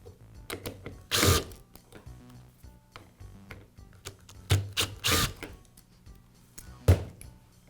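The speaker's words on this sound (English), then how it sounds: "Now I can remove the old air valve assembly from the air filter base" Small plastic clicks, snaps and bursts of rasping come from close by as an old air valve assembly is worked loose from the air filter base of a Poulan chainsaw, with several sharp pops between quieter handling noises.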